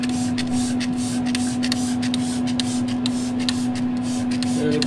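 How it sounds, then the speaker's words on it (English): Rapid repeated spritzes from a spray bottle mist beef broth over a prime chuck roast on a Yoder YS640 pellet cooker, quick bursts in a steady rhythm over a constant low hum, with no talking. "Do a little spritz with some beef broth."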